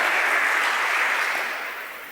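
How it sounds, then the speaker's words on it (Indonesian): Applause for the regent at a West Papua government gathering rises as a thick, even roar of many hands clapping, then gradually thins out and fades. "Mari kita beri tepuk tangan untuk Bupati."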